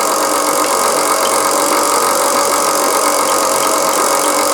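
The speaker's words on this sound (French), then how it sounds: "on va mélanger tous les ingrédients en premier. En première vitesse" A stand mixer kneads croissant dough on its first, slowest speed, its motor giving a loud, steady whirring drone that holds unchanged throughout, close up and with no talking.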